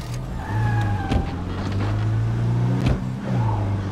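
A car driven in the zombie survival game State of Decay 2 hums with a steady low engine tone, a faint whine rising and falling over it, and a few thumps and rattles as it rolls along.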